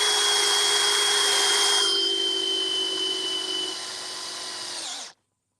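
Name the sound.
DeWalt drill driving self-tapping screws into pipe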